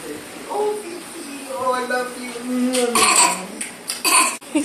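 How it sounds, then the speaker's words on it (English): A child lets out a few exaggerated, staged coughs near the end after some playful vocalizing. "Fake coughing."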